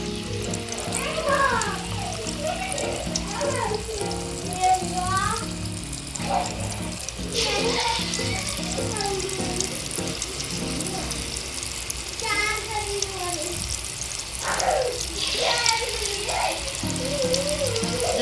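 Kadalai paruppu suviyam, sweet dumplings dipped in maida batter, dropped into hot oil to fry, with a continuous sizzle running under a voice that talks throughout.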